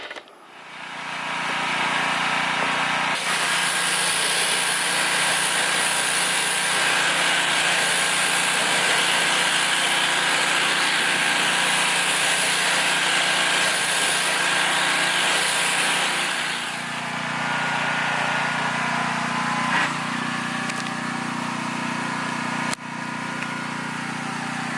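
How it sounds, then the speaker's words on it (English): Gas pressure washer engine running steadily and loudly nearby during a 2019 Nissan Titan truck detail, its pitch dropping slightly partway through as the load changes, with no talk. "Let me go turn the pressure washer on"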